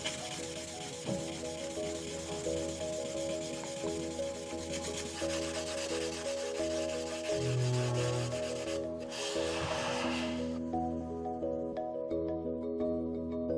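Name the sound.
charcoal polishing of a Kyoto lacquer surface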